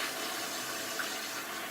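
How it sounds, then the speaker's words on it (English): A toilet is test-flushed right after a leak repair and the water supply being turned back on, giving a steady, broad rush of water that runs unbroken through the whole stretch with no voices. "test flush"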